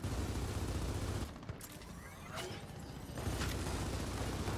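Gunfire in a shooter video game with grenades, a dense rattle of shots for about a second, a quieter patch with faint sporadic pops, then steady firing again near the end, no voices.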